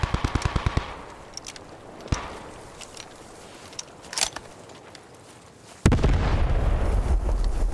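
Anti-tank gun fire and battlefield shooting in the WWII shooter Post Scriptum: a quick burst of rifle or machine-gun shots, then scattered distant booms, and a loud heavy blast near the end followed by a sustained rumble.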